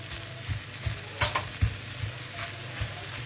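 Choux pastry being stirred in a hot pan, with a steady sizzle and irregular scraping strokes of the spoon, a few louder knocks against the pan, close and alone without talk.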